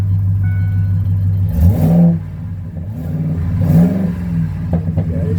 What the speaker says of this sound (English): But you can kind of hear that exhaust.